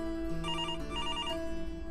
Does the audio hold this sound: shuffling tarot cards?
no